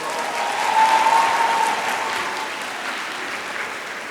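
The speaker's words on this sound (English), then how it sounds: "Let's give them a round of applause" Graduates and guests at a college commencement ceremony break into a full, continuous wash of applause that swells early, then holds steady and slowly eases.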